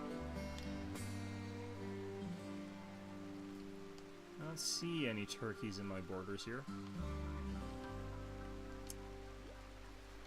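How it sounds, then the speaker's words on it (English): Rain from a video game patters in a steady, soft wash beneath someone talking, with low game music droning along underneath. "This rain, I think, is absolutely devastating my ability to run this game, which is kind of funny considering how limited the rain effect is"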